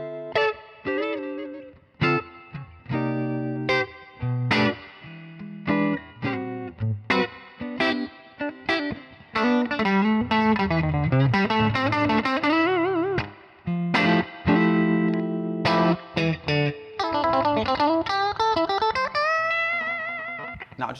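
An electric guitar runs through a studio amp turned up to about three o'clock on the volume, with a slight breakup on the tone: single notes and chords ring out with chorus and reverb, heard alone with no talk.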